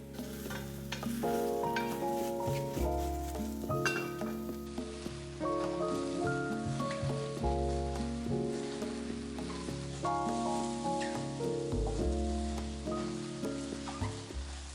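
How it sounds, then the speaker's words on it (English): Mushrooms dry-frying in a pan for a shirataki noodle stir fry, giving a quiet, continuous crackling sizzle with repeated stirring and scraping throughout. "Cook the mushrooms dry for 4 to 5 minutes"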